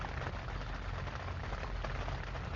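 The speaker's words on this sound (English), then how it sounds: "as you can hear, the rain got coming outside like crazy" Heavy rain pours steadily outside during a thunderstorm, a dense, constant hiss of drops with no breaks and no voices.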